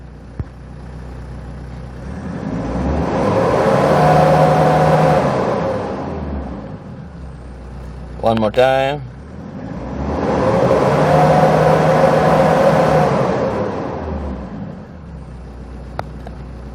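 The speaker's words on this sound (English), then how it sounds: "Let's try to accelerate" A white Kia Bongo III 4WD truck's engine is revved twice, each time rising to a loud, sustained roar and sinking back to idle, with a brief spoken remark between the revs.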